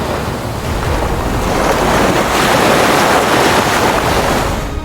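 Ocean surf pounds an eroding beach shoreline, a loud, continuous roaring wash of breaking waves mixed with buffeting wind noise, swelling slightly mid-way, with no voices.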